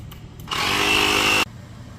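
An air pump inflates a car tire just repaired with a plug in cold weather, a steady loud whirring buzz that starts abruptly, runs about a second and cuts off sharply.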